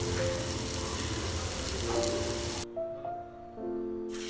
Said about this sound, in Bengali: এই তেলের মধ্যে দিলাম কালো জিরা, লবঙ্গ, দারচিনি, এলাচি